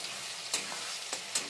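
Onions fry in a pan with spice paste of tomato, onion, garlic and green chilli, making a continuous close sizzle with three brief scraping stirs, no speech.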